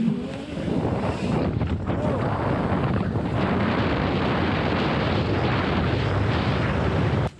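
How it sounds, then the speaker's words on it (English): Modified Razor MX6000 electric dirt bike ridden outdoors, heard as a steady loud rumble and whir buried in heavy wind buffeting on the microphone for the whole stretch. "this is not your son's normal Razor dirt bike right here"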